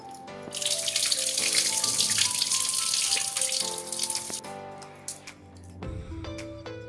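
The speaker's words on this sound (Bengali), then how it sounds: "আলুগুলোকে আরেকবার ধুয়ে নেব বেশি করে জল দিয়ে" Potatoes being washed under a running kitchen tap, with a steady rush of water splashing over them near the sink, plus bumps and sloshing as they are handled, before the flow changes near the end.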